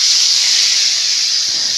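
Small fish fry in hot oil in a wok, giving a loud, steady, close hiss that runs unbroken through the whole short stretch with no voices over it.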